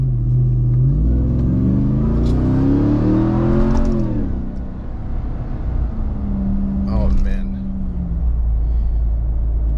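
A Ram TRX pickup with a Corsa Xtreme exhaust roars through a full-throttle pull, its deep exhaust note rising and climbing in pitch before easing off, then building again, heard from inside the cab.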